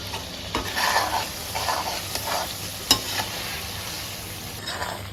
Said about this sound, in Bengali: মশলাগুলো আমার ভাজা হয়ে গেছে